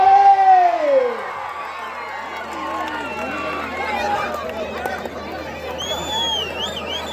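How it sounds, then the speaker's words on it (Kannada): Loud crowd noise at a kabaddi semi-final match, with sustained cheering, whoops and clapping filling the clip while an announcer's amplified voice rises over it at the start. "ಜೋರಾದ ಚಪ್ಪಾಳೆ."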